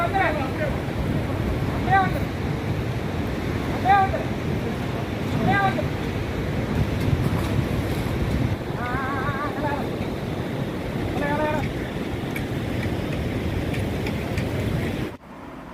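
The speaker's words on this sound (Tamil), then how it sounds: "பாருங்கள், தண்ணி வேகமாக வந்துட்டுருக்கு." Fast-flowing water on the Noyyal river, a steady broad rushing roar throughout, with faint recurring tonal calls or voices riding on top and no clear speech.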